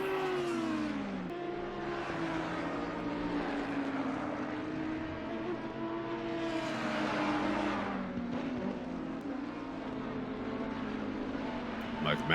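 Race cars from a driving simulation lapping the Nürburgring GP circuit, a continuous, steady engine whine with rising and falling pitch as the cars accelerate and shift, heard under ongoing commentary voices.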